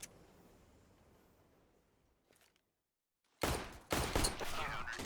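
Gunfire in a Counter-Strike match on the Overpass map, a dense burst of several loud shots after a quieter stretch and a brief silence, with commentators talking over the action.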